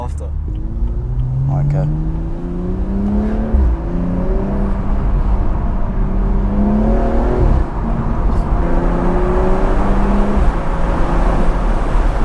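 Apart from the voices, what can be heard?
BMW M235i engine with turbo spooling on back roads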